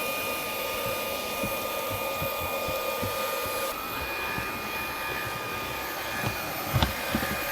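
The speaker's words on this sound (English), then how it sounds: "I've been hoovering for about 3 minutes and I've taken quite a bit of hair off here" A VAX Blade 4 cordless vacuum fitted with its textile tool lifts pet hair, giving a steady high-pitched whine and airflow hiss with a slight pitch shift midway and a few small bumps near the end.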